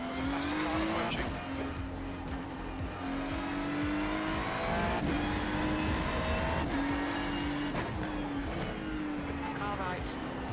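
A faster race car closes in during an iRacing sim race on the Indy road course, its engine note rising under the steady drone of the player's own car, with repeated gear shifts and people talking over the race.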